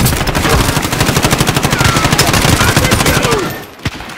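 Rapid automatic gunfire in a video game, a loud, steady stream of closely spaced shots lasting several seconds before tapering off, with one last sharp report near the end.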